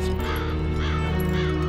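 A raven in the adventure game Black Mirror 2 gives three hoarse caws at an even pace, loud and close, over a constant low droning ambient background.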